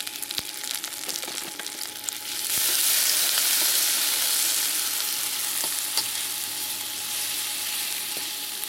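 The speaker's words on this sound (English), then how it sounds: "Just browning the onion to get the flavor from the onion out." Onion browning in a stir-fry pan with garlic for pork and baby bok choy, a continuous close sizzle that swells louder after a couple of seconds, with occasional light stirring knocks.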